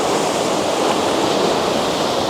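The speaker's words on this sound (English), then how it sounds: "We get some pretty big waves on the loch." Big waves break and wash on Loch Ness, a continuous dense hiss of surf like a sea shore, steady and fairly loud with no voices.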